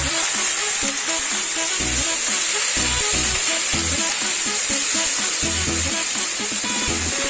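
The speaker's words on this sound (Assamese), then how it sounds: "এতিয়া আমি চাউলটো আমি ফ্ৰাই কৰি ল'ম" Rice fries in a hot pan with oil, hissing in a steady bright sizzle while a utensil stirs it in quick, regular scraping strokes up close.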